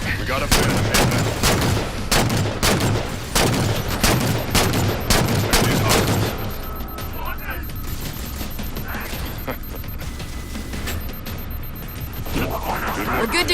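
Heavy battle gunfire from Halo 4 rattles in dense rapid bursts for several seconds, then drops to a quieter rumble with scattered shots, under radio-style voices.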